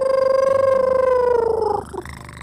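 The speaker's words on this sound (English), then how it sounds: "It purrs and then it howls like a wolf" A cat's steady, rhythmic purr-like drone with a tonal whine rides on top, then breaks off abruptly into a rougher, lower wolf-like howl; close and fairly loud.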